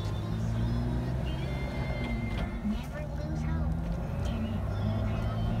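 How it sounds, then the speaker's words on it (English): A 2005 Jeep Wrangler LJ Unlimited being driven, its engine and road noise forming a steady low drone throughout while someone talks over it. "Today we are going to be driving a 2005 Jeep Wrangler LJ"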